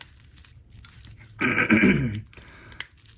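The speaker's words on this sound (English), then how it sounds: "I have to keep clearing my throat so much" One harsh throat clearing, close and fairly loud, lasting under a second amid quiet room noise.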